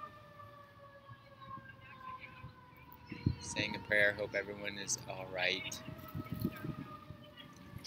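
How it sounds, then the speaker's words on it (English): A distant siren wails faintly behind close conversation, its steady tone lingering under the voices outside a temple. "You can hear the siren in the background."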